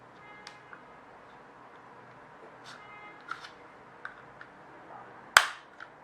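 The casing of a DJI Mavic 2 remote controller is pried open from the side seam, giving a few faint ticks and then one sharp, loud snap near the end in an otherwise quiet room.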